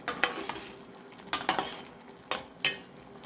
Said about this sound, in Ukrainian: Тепер ми висипаємо сюди огірочки.